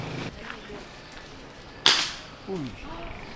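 A toy gun fires one sharp, bright crack partway through, standing out against quiet indoor background and faint voices nearby.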